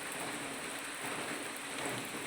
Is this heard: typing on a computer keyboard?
no